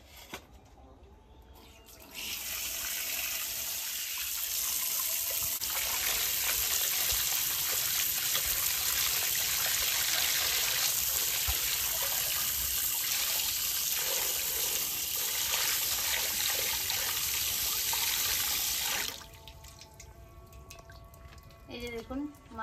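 A whole scaled fish is rinsed under a running tap, a continuous close splashing rush of water that lasts most of the stretch, then stops, leaving quieter handling sounds.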